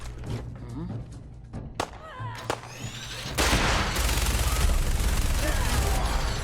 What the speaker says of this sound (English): she has a minigun